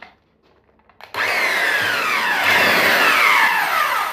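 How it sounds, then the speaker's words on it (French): An electric paddle mixer starts up after a quiet second and churns joint compound in a bucket, a loud, steady whirring drone with shifting pitch as the paddle works through the mix. "je vais le mélanger à l'aide du mélangeur"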